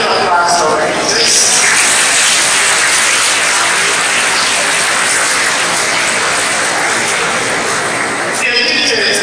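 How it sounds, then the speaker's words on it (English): Students at a Teachers' Day celebration in a school hall applaud loudly and continuously for their teachers, a thick, unbroken roar of clapping close by. "Give them a big hand of applause for our teachers."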